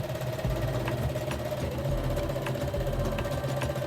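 A sewing machine runs steadily and close by, humming and clattering without pause as it stitches bias tape onto a kimono dress neckline.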